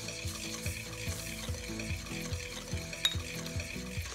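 Egg yolks are whisked with sugar in a bowl, with a rapid, regular rhythm of soft whisk strokes and a faint background hum, close and steady.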